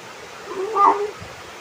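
A cat meows once while being fed indoors at home, a short, fairly loud call rising out of low background noise near the middle of the moment.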